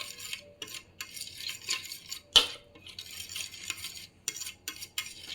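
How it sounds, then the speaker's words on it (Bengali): Sauce stirred in a pan while noodles cook: soft, irregular scraping and clinks of a utensil against the pan, with one sharper knock partway through, no talk. "সসটাকে ভালো মতো নেড়ে নিতে হবে।"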